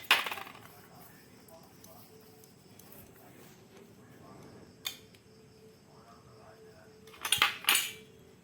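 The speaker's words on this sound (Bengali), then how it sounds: "এখানে 4টে স্টিলের বাটি নিয়েছি, এখন তেল মাখিয়ে নেব।" Steel bowls handled on a kitchen counter while being greased with oil for an eggless mango cake, giving a sharp metallic clink at the start, a brief knock midway and a cluster of clatters near the end amid quiet handling.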